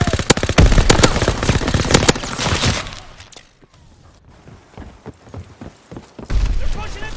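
Call of Duty WW2 multiplayer combat aboard the USS Texas: loud bursts of rapid machine-gun fire and scattered shots, dropping to a quieter lull with distant pops before another heavy burst, with game voices in between.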